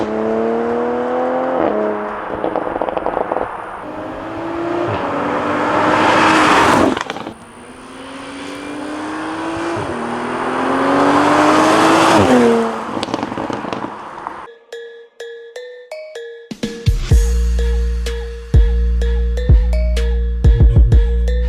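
A Toyota Supra with a B58 engine and nitrous accelerates hard, its engine note climbing through several gears with short breaks at each shift, then drops to a lumpy idle with crackles and pops.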